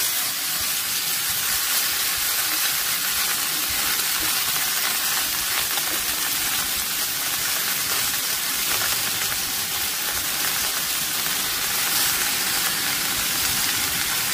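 Chopped bottle gourd sizzling in hot oil with bay leaf, dried chilli and cumin over high heat, a loud, steady hiss that runs without a break.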